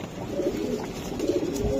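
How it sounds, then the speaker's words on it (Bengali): Pakistani flying pigeons coo in a steady, overlapping series of low, throaty calls at close range, with no talk over them. "এই যে দর্শক দেখেন কবুতরগুলো আমি দেখাই"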